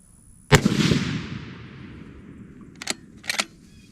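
Rifle firing 168 grain ELD Match bullets at a target outdoors: one sharp, loud shot with a long fading echo, then two quieter cracks close together about two and a half seconds later.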